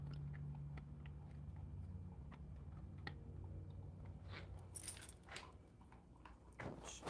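A puppy crunches dog treats, scattered crisp bites and chewing clicks, fairly faint and near, over low background hum with no talking.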